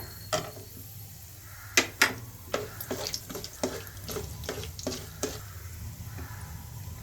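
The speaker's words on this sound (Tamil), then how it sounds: "கொஞ்சம் தள்ளி நின்றுக்குங்க, ஏன்னா மிளகு வெடிக்கும்" Black pepper pops and crackles irregularly over a steady sizzle of hot oil, a dozen or so sharp snaps spread across the stretch, no voices.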